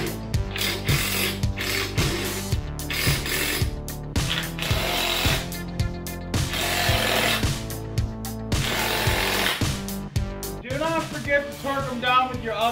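An impact wrench fastens a 2-inch, 4x110 wheel spacer on a gas-converted EZGO golf cart, giving loud, rapid rattling hammering in repeated bursts with short pauses and a higher whirring tail near the end.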